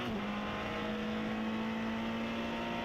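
GT3 race car lapping the Motegi circuit, its engine a steady sustained drone with a slight pitch rise at the start, heard continuously from onboard without talk.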